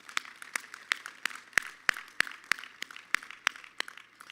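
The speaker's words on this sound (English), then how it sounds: "giving the mighty UJ Choir another warm round of an applause" Sparse, slow hand claps from a small audience applauding the UJ Choir, about a dozen crisp distinct claps at a steady irregular pace, fairly close and alone.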